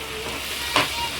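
Fish biryani masala frying and being stirred in a pan, a steady close sizzle with two brief louder scrapes of the spoon.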